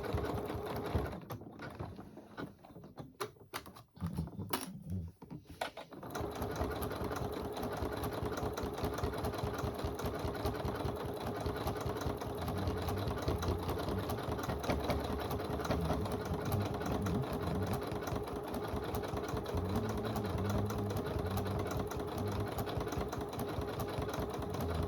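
Sewing machine stitching down quilt binding on a poinsettia table runner, a steady, fast mechanical whir running continuously after a few seconds of scattered handling clicks.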